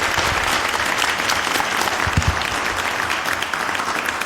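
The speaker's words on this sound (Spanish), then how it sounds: "un gran aplauso para ellos" An audience at a panel discussion gives a big round of applause for three panelists, dense sustained clapping filling the room for several seconds.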